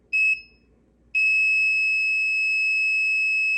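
An electronic buzzer gives a short high-pitched tone, pauses, then sounds again as a continuous steady beep over faint background hum.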